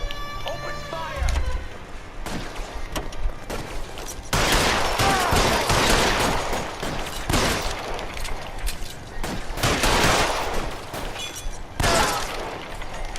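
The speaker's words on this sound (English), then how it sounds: "Guys aren't gonna go quiet. Open fire!" A shootout in the video game L.A. Noire fills the scene with loud, repeated bursts of gunfire and rattling volleys over several seconds, mixed with game voices and speech.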